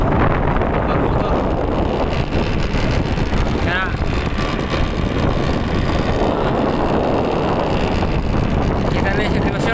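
A boat motor drones under loud, buffeting typhoon wind near Surigao. The roar is continuous and heavy throughout, with a voice speaking briefly over it.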